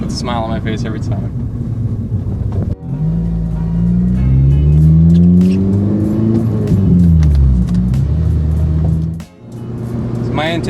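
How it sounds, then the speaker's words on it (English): An 8th-generation Honda Civic Si engine with a K-Tuned cold air intake and Invidia N1 catback exhaust idles, then revs up loudly to a throaty roar and drops back down before settling again, close by. "The sound of this intake combined with my Invidia Catback N1 Catback exhaust is just insane"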